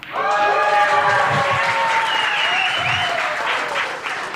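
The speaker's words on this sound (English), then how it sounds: "it's good to hear them out there cheering on their team" A billiards crowd at a USA versus Russia match applauds steadily with some cheering and whistles, a dense wash of clapping throughout.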